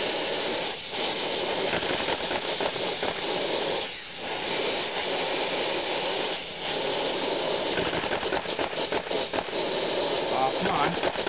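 Small air-powered Lego engine running with no motor, a continuous close hissing rush of air with rapid mechanical fluttering, briefly dipping a few times before ticking faster near the end.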